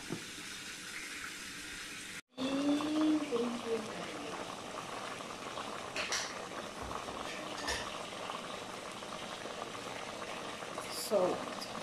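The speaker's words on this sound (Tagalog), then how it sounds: "Hiyan muna natin siyang kumulo." Ginataang gulay, a coconut vegetable stew with fish, shrimp and malunggay, boiling in a pot, a steady close bubbling simmer after a sharp lid clatter, with faint voice and kitchen clinks.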